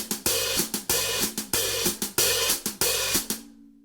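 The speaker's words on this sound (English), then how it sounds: "So because the hi-hat is closing on every upbeat" A steady drum groove with a hi-hat opening and closing on every upbeat, each open hiss cut short, over kick and snare, ending in a fading ring.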